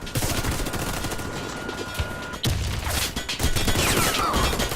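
Dense bursts of automatic gunfire rattle continuously through an online shooter match, with rapid overlapping shots, a brief break midway, and loud clattering volleys after it.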